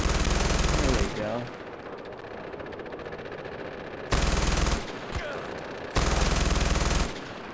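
In the shooter Far Cry 4, loud machine gun fire comes in three sustained automatic bursts of roughly a second each, separated by quieter gaps of in-game ambience.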